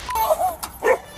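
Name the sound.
dog barking at police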